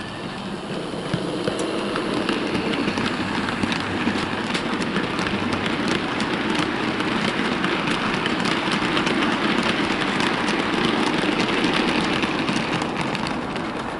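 A small Hornby Peckett B2 model locomotive hauls a full rake of wagons along the track, giving a steady, continuous rolling whir and rattle that stays even throughout.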